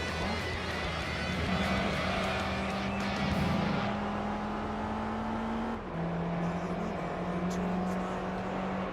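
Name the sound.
race cars in video game Gran Turismo 3, Honda NSX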